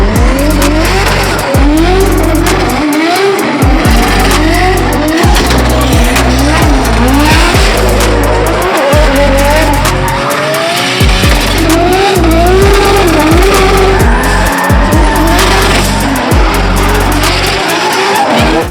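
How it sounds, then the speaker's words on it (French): Cars drifting in the drift zone at the Brûleurs de Gommes motorsport event, with continuous loud screeching tire squeal and revving engines in overlapping waves that last throughout. "Désormais, on se retrouve au niveau de la zone drift avec Jason."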